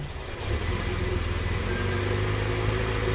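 Car engine idling cold at a low 485 RPM after a hard start, a steady close rumble with an uneven, loping pulse running throughout and no talking.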